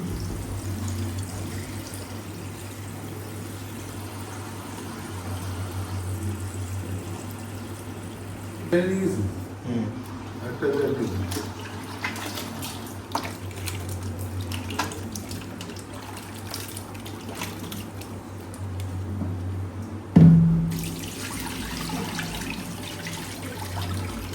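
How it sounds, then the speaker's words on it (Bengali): Mutton pieces being washed under a running kitchen tap, a steady stream of water splashing through the whole stretch with a few louder clatters and a sharp knock near the end. "তো মাংসটা ধুয়ে নিচ্ছি এখন।"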